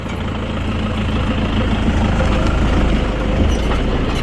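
A tractor engine idling at a steady low rumble while a KTM 390 Adventure motorbike is towed near Sambhar Lake, loud and continuous throughout.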